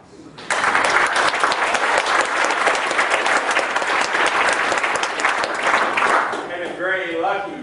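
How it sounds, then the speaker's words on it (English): A presentation audience breaks into loud, dense applause that holds steady for several seconds, then tapers off as a speaking voice comes back in at the end. "So you deserve your own applause."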